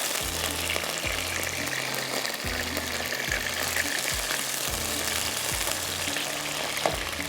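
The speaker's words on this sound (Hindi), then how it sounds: "इसको थोड़ा फ्राई करके निकालेंगे" Boiled mutton pieces frying in a pan, with a steady, loud, continuous sizzle and crackle of hot oil throughout and no talk.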